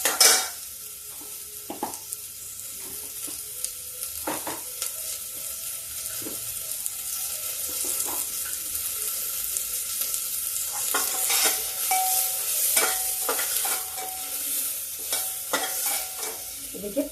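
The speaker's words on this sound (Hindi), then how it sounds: "अब डाल रहे हैं इसमें प्याज। प्याज भी हल्का ब्राउन कर लेते हैं।" Onions frying to a light brown in a pan for eggplant kofta give off a soft, continuous sizzle, broken by a few scraping stirs and clinks of the utensil against the pan.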